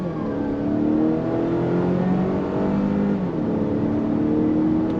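A 2025 Volvo XC60 front-wheel-drive-based SUV accelerating under throttle, its engine note rising steadily and droning loud and close from inside the cabin, with a brief dip as it shifts, then climbing again.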